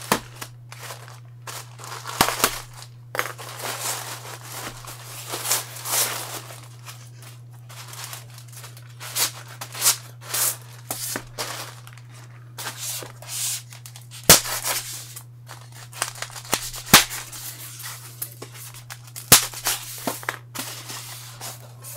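Laptop parts, MacBook keyboards with flex cables, probably 13-inch, being handled and shuffled, giving irregular close crinkles, clicks and light knocks over a steady low electrical hum, with no talking.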